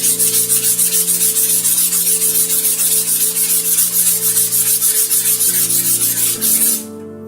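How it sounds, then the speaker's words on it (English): Steady, loud rhythmic sanding strokes rasp across a laminated balsa trainer airplane wing, continuous and close, stopping abruptly near the end over a low background hum. "Evenly sand across the entire wing"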